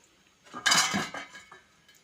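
A lid clattering down onto a pan of salted, turmeric-rubbed brinjal and butterfish, a short metallic clink and rattle lasting under a second, close and fairly loud, with no talk.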